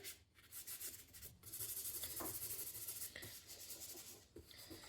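Fingers rubbing soft pastel into paper, a quiet close scuffing friction in continuous strokes, faint and dry.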